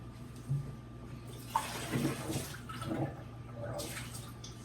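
Water runs and splashes into a pot for a few seconds, with a low steady hum underneath and brief clatter near the start.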